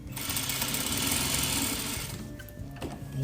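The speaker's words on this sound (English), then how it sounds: "I'm gonna sew right next to this line" A sewing machine stitches along a fold of thrifted clothing fabric, running as one continuous, close mechanical hum that stops near the end.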